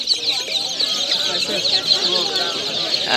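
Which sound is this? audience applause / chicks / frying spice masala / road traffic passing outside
chicks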